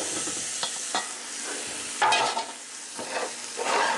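Meat stirred into softened, browned onions and garlic in a frying pan for Brazilian feijoada, a steady close sizzle with a handful of scraping spoon strokes, growing a little louder toward the end.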